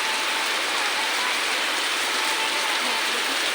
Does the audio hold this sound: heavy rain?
yes